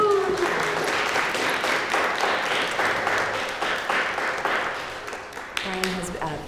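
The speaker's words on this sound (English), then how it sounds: "And a round of applause." Audience applause at a university talk on Kashmir, moderately loud and continuous for several seconds before tapering off, with a voice briefly speaking near the end.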